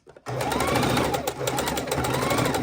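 A sewing machine runs fast and steadily while stitching through two layers of batting and two layers of fabric for a soup bowl cozy, with a continuous close mechanical whir after a brief start.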